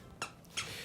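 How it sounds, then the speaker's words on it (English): A pet dog squeaking a squeaky toy close by indoors, two short sharp squeaks about a third of a second apart over a quiet room. "it's my dog currently squeaking his toy right next to me"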